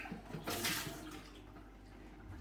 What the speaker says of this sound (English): Quick rinse out with that.